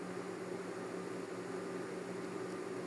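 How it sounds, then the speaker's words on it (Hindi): Electric blender running steadily on raw green mango puree for keri sharbat, a continuous even motor whir with a faint hum, close and alone with no talk. "इसको अच्छे से ब्लेंड कर लेंगे ताकि जो इसमें रेशे हैं वो कोई रेशा इसमें ना रहे"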